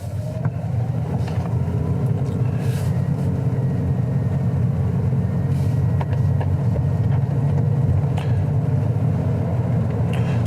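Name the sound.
car moving off and driving in the rain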